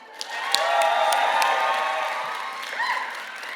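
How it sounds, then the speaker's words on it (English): An audience at a live storytelling show applauds a performer, with clapping, a few cheers and whoops filling the room at a steady level, and a brief vocal outburst near the end. "round of applause for Leland Carina"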